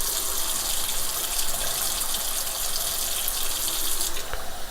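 Running tap water pours steadily into a sink while tomato seeds are rinsed, a continuous loud splashing gush with no talk.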